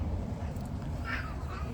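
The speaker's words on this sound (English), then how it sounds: "oh god, there's a cat fight." Cats in a fight, yowling and caterwauling outdoors at some distance, one rising, strained cry breaking through low background noise.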